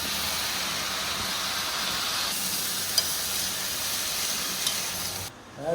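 Boiled banana blossom fries in a pan with a steady, close sizzle and hiss that runs without pause, dropping away briefly near the end.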